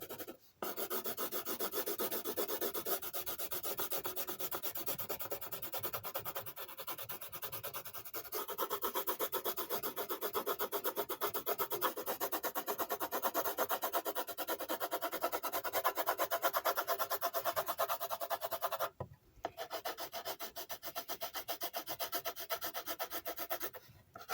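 Pencils drawing on paper for silhouette art, a close, continuous dry scratching and rubbing of graphite strokes with short pauses, quiet and steady with no talk.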